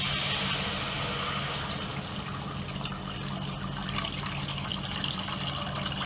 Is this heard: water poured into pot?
yes